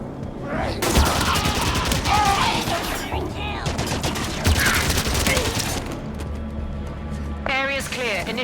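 Heavy gunfire aimed at a turret in Halo 5: Guardians rattles continuously through a busy battle, with dense volleys and booms while voices talk over the shooting.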